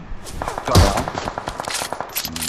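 Rapid VSS rifle shots in a BGMI match crack out in a quick, close burst of repeated reports, dense and loud with no talk over them.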